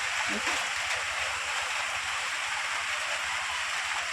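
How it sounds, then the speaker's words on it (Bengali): Steady rain falls outside a house among trees and flowers, a dense, continuous hiss of drops close by with no break, a voice briefly audible under it. "আর সেই বৃষ্টি"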